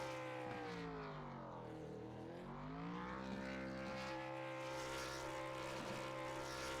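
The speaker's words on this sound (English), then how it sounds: "Doing some championship burnouts here in Charlotte" ARCA Series championship race car doing burnouts in Charlotte, engine revving in a high, sweeping howl that dips and climbs again, loud and sustained for several seconds with no talk.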